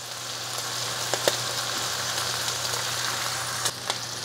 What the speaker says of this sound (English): we got some bacon on it, and we're gonna be cooking some bacon on it